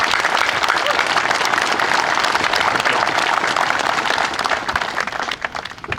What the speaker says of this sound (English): So again, let's give them a special round of applause.